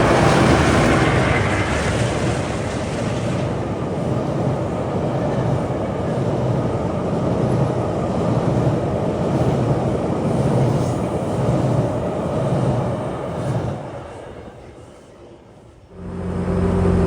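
GO Transit Lakeshore East eastbound train bound for Oshawa, heard on a foggy day: a loud continuous rolling roar that fades near the end, then a brief renewed rumble, with no speech.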